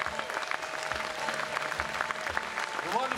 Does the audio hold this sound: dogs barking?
no